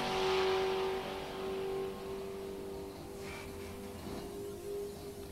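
A drag racing car makes a solo qualifying pass at an NHRA Sports Nationals event, a loud engine roar heard from a distance that holds steady and slowly fades across the strip.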